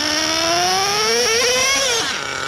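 Nitro-fuelled RC buggy with a 2-speed gearbox screams at full throttle, a high, buzzy engine whine rising slowly in pitch, then dropping off as it bogs down near the end, loud and close with no talk.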